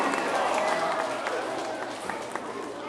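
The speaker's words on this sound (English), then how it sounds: "Big round of applause for Mr. Borgia." A school assembly crowd claps and cheers for a teacher. The applause is dense and fairly close, holds steady throughout, and a few voices call out within it.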